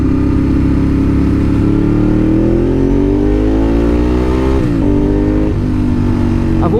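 Ducati 1098 motorcycle engine revving hard under a bridge, loud and close, the pitch climbing steadily before a sharp throttle blip and a brief drop, all echoing with no talking.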